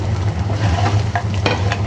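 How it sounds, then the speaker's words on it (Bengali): Loud, continuous sizzling in a hot pan as fried puti fish are stirred into frying onions, with scraping stirring strokes over a low steady hum. "এখন আমি ভাজা মাছগুলো দিয়ে দিচ্ছি"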